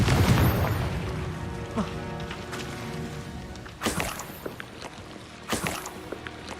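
Spell blasts from Confringo in Hogwarts Legacy, a rumbling boom at the start followed by two sharp bursts later, over game ambience and faint voice.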